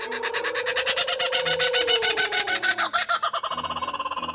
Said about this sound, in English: shoot portrait mode with your favorite pet, which is obviously a kookaburra bird